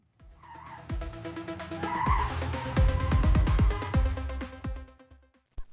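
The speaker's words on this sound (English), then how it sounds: "Shall we take a tuk-tuk? It looks fun." A tuk-tuk speeds through city streets toward a night market, its motor revving in rising, whining tones with sharp skidding squeals and rattling bumps, loud and close throughout, ending in a brief pause.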